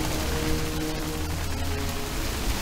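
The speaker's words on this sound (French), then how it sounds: "Que des genres de blocs de glace, de la grêle." Steady dense pattering of hail in the video game Middle-earth: Shadow of Mordor, drumming continuously over a low rumble, loud and close throughout.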